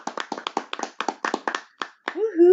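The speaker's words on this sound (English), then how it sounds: "Let's clap it up for football." A small group claps along in a podcast-style interview setting, a run of quick, close, uneven claps that ends with a cheering voice.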